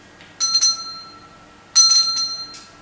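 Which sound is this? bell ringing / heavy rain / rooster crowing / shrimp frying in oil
bell ringing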